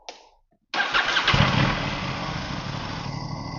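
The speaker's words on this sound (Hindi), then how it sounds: "अब मैं बाइक स्टार्ट करने जा रहा हूँ" An Aprilia RS457 motorcycle being warm-started after a ride: a brief starter whir, a short pause, then the engine catches and settles into a steady, close, fairly loud idle.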